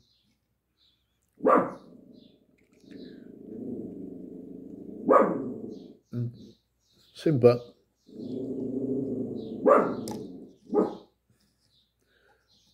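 A female dog barks at another dog she spots through a window, giving several sharp barks spaced apart, with a person talking in between.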